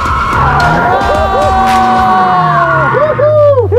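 A car drifts in tight circles on a track, driven by a first-time drifter, its tires squealing loudly and continuously with rising and falling pitch as the engine revs, while onlookers cheer faintly in the background.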